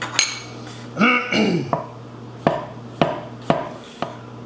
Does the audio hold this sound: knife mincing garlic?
yes